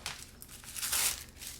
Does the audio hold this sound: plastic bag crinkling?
yes